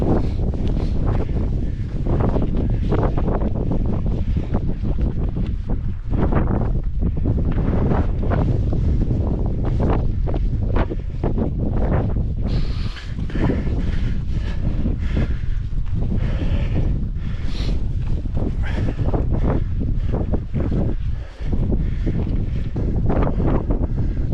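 Strong mountain wind on the Tour du Mont Blanc trail buffets the microphone in a loud, continuous rumbling roar that gusts and eases without a break.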